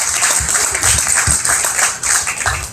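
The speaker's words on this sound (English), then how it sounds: "give the folks at Rankin Major Bexar County Livestock Show a big round of applause real quick" An audience at the Bexar County junior livestock goat show applauds the organisers, a loud, close burst of sustained clapping from many hands.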